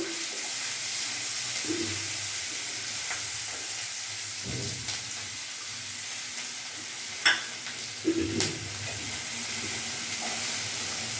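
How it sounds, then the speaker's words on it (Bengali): Chopped onions frying in hot oil over a raised gas flame, a steady close sizzle and hiss with occasional stirring scrapes and light clatter, no talking. "পেঁয়াজটা আমার একটু লাল লাল ভাজা হোক কাঁচা গন্ধটা চলে যাবে"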